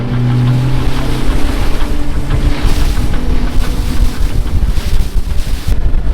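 A 60 hp outboard motor drives a Highfield Sport 390 dinghy across calm open water, a steady low hum under heavy wind buffeting and splashing, with no talk.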